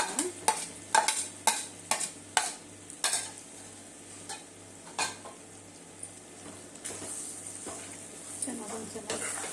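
A spoon scrapes and knocks against a vessel while mango thokku ingredients are mixed, a run of sharp clinks that comes quickly at first and then spaces out, close and fairly quiet, with a low steady hum underneath.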